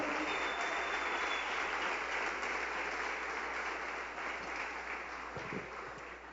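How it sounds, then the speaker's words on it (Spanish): A church congregation claps in sustained applause during a sermon, a dense even wash heard from a distance and fairly faint, tapering slightly near the end with a few low thumps. "Dele fuerte ese aplauso al Señor"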